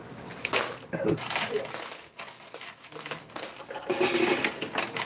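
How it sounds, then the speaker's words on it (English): A long cascade of quarters clattering and sliding in a coin pusher machine, with bursts of jingling that surge and fade over several seconds, close and loud. "that is the sound of quarters going to the house."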